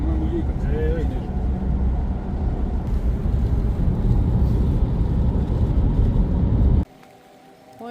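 A car driving through snow toward a gîte near Anglès and Boissezon, a steady loud low engine and road rumble from inside the cabin that cuts off abruptly near the end.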